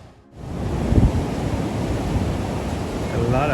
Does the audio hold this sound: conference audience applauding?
no